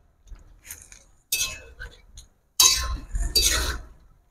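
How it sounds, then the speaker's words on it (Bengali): A spoon scrapes and clinks against a cooking pot while Kashmiri aloo dum is stirred and mixed, in several short irregular bursts separated by quiet gaps. "চলো এটা ভালো করে আমি মিশিয়ে নিই"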